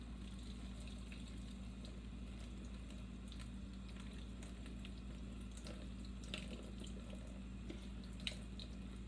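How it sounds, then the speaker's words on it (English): Unsprouted seeds and hulls are rinsed under a running kitchen tap. The water flows in a steady, close wash for the whole stretch with faint splashes, and no one speaks. "I'm going to rinse the hulls and seeds that did not sprout away."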